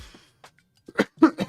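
A man coughs in a quiet room, a few short, harsh bursts near the end of the clip after soft breathy sounds, close to the microphone.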